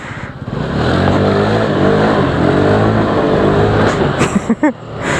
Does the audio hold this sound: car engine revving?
yes